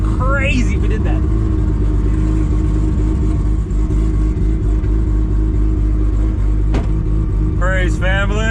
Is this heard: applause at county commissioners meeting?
no